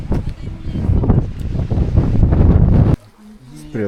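Strong mountain wind roars and buffets the microphone in loud, continuous gusts for about three seconds, then cuts off abruptly as a voice is heard.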